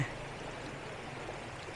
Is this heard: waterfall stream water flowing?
yes